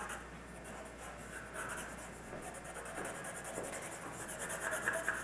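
A graphite pencil shades a drawing in a soft, continuous scratchy rub, close but faint, with no talking.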